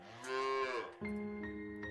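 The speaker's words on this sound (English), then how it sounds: "That's when the mother cow groans." A mother cow groaning while calving, a loud drawn-out low moo followed by a second, steadier groan close by, with no talk.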